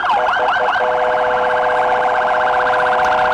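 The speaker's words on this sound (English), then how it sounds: "Their sirens are huge." Loud emergency sirens wail in Ramallah during celebrations for released prisoners, starting with a few rising and falling sweeps before settling into a steady, piercing tone close by.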